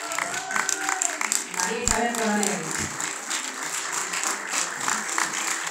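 Applause from an audience at an award ceremony honouring Guarania music, steady clapping under a voice over a loudspeaker announcing a name, continuing evenly afterward.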